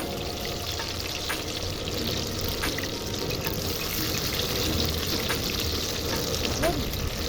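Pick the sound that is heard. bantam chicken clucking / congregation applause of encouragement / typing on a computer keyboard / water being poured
water being poured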